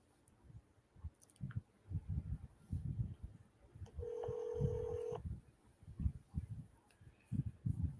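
Telephone call tones from a phone dialing out, with a steady ringback tone sounding for about a second in the middle, framed by faint clicks and handling noise on either side.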